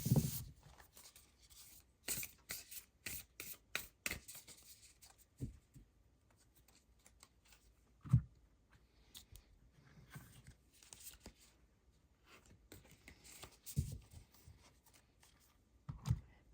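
A new tarot card deck being shuffled by hand. Soft, close riffles and card slaps come in irregular bursts separated by quiet pauses, and no one speaks.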